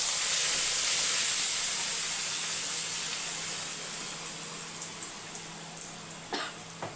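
Ground chutney hits a hot tempering pan and sets off a loud steamy hiss that slowly fades, with a few small sputters and clinks near the end.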